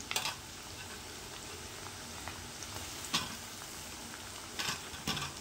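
Onion pieces fry in a pan for a ridge gourd curry, giving a soft steady sizzle broken by a few light stirring scrapes and no talking.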